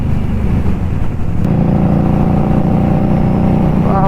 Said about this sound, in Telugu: ఆ టనల్ దగ్గర ఒకసారి ఆపి ఎగ్జాస్ట్ సౌండ్ అయితే వినిపిస్తాను